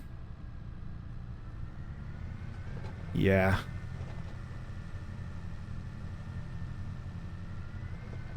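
A tractor engine idles in a logging video game, a low steady rumble throughout with a short rising whine near the middle. One brief spoken word comes over it.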